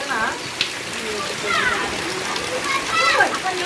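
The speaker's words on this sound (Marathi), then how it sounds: "पाऊस लय जबरदस्त आला मोठा" Heavy rain pours steadily in a village yard, a broad wash of splashing water that runs under people talking throughout.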